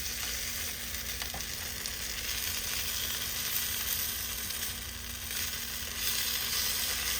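Vegetables frying in a pan, a dense, even sizzle holding steady throughout with only faint stirring, close and continuous.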